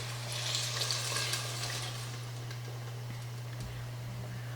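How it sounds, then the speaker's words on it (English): Six cups of water are poured into a pot of celeriac soup on the stove, a steady close hiss and splash that runs continuously, loudest at the start, with a constant low hum underneath. "I'm adding 6 cups of water."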